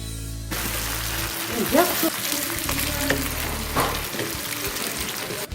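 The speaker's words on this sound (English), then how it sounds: "the dried fish is being cooked properly" Dried fish frying in a pan in a kitchen in Thimphu, Bhutan, a soft steady sizzle with occasional stirring clatter, moderately quiet and close, with no talking.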